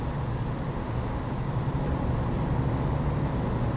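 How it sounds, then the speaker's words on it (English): Kenworth 990 truck engine in American Truck Simulator, a steady low diesel drone with a constant rumble and faint high whine, running alone without talk. "It's a really, really, really good sounding truck."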